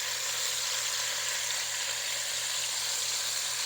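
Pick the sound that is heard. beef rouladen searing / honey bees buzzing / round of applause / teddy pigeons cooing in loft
beef rouladen searing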